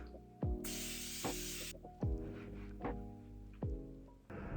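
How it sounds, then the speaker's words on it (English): Morphe setting spray sprayed close up in a single sustained hissing burst lasting about a second, standing out over soft plucked background music. "I'm going to use the Morphe setting spray"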